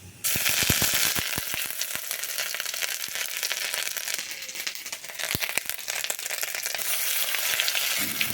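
Ash gourd pieces dropped into hot oil and spice tempering in a pan, a loud continuous sizzle and crackle with scraping stir clicks throughout.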